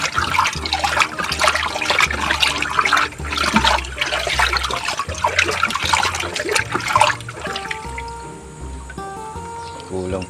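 Water poured into a container holding one-month-old betta fry, a continuous splashing, trickling pour that runs steadily for about seven seconds and then fades to a softer dribble, close and fairly loud.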